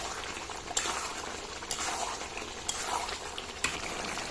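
Beef cooks in a pot over a clay stove in a village setting, with a continuous bubbling sizzle and a scrape or knock from stirring about once every second.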